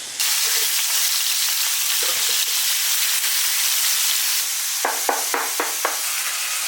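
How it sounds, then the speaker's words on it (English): Two pounds of 80/20 ground beef with onions searing in a hot pan, a loud, continuous close-up sizzle with a few brief stirring scrapes near the end. "2 pounds, 80/20 ground beef, nice fat content, nice flavor, good hard sear"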